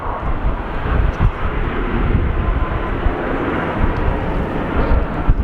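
Jetstar airliner taxiing at Sydney Airport on a windy day, a steady broad engine roar rumbling continuously throughout, fairly loud and close, with gusty wind buffeting mixed in and no voices.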